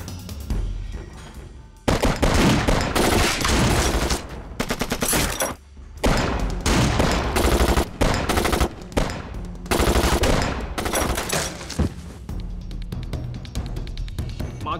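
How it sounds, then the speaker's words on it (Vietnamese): Loud, close machine gun fire in a Vietnamese war-action film: long rattling bursts broken by brief pauses, continuing almost without letup, with no speech over it. "Nếu không thì tôi sẽ dùng súng máy bắn mấy người đấy."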